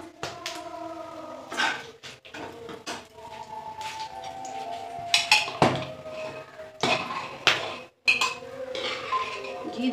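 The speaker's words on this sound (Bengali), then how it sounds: "পরে কুকারের ঢাকনাটা খুলে" A pressure cooker lid is handled in a kitchen, with metallic clanks, clinks and scraping of pots and utensils, then a brief silent gap before more clattering.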